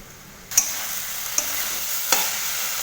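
Grated papaya chechki frying in a pan breaks from quiet into a loud, continuous sizzle, with three distinct scraping strokes of the spatula spaced evenly apart, close and with no voices.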